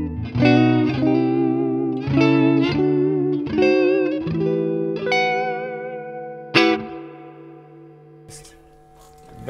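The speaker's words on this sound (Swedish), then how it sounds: "Så vi går tillbaka till det rena ljudet med det fantastiska reverbet." A guitar plays clean chords and single notes through a Fender Deluxe Reverb Tone Master amplifier with its digital reverb. Each strum rings out into a lush, washy tail, and the final notes fade into a long decay.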